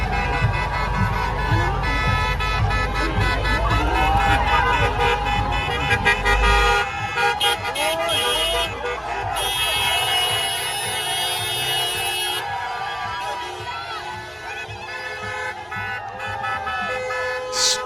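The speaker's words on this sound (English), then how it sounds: "protesters at the Million March for Children are getting lots of honks and support from vehicles passing by" Car horns honking repeatedly from vehicles passing a street protest in Toronto, with traffic noise and several overlapping long and short toots, some sustained blasts, heard from the roadside.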